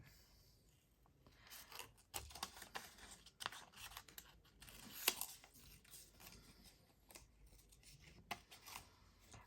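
Scissors snip through paper for a journal, a quick run of faint, close, irregular cutting clicks and rustles without any speech.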